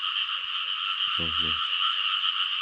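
Frogs croak at night in a rural field in Thailand. A dense, steady insect-like chorus carries throughout, and a close, loud burst of rapid croaks stands out for about half a second partway through.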